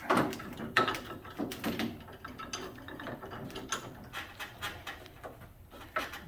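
Keyless chuck on a Makita drill being turned by hand, giving a quick run of dry ratcheting clicks, close and fairly quiet, with small mechanical knocks scattered through.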